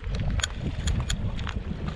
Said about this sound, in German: Wie man hören kann, ist es ein bisschen windig.